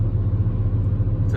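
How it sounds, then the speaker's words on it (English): A truck engine idles steadily with an exhaust leak, giving a low, even rumble that holds up close and unchanged for the whole moment, with no talk over it. "The truck's idling, and the exhaust is coming right through this wall."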